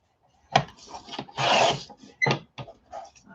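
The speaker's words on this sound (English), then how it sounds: "I'm going to cut out these cards and with my trusty cutter here." A trusty hand cutter slices through baseball cards, giving close, rasping cuts in several short bursts with one longer stroke in the middle, each separated by brief pauses, with no voices.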